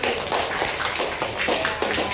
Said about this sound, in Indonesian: Berikan tepuk tangan dulu buat kelompok 1.